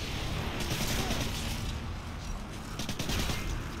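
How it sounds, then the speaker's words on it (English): Gunfire in a shooter game, a dense rattle of rapid shots over a loud, busy background, with bursts clustering toward the end. "I'm getting shot at from something."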